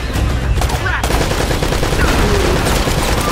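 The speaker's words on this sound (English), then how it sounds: "Shotgun!" Gunfire in the video game Uncharted: Drake's Fortune, a shotgun blast among rapid, loud bursts of shots and explosions filling the whole stretch, with a brief lull near the start.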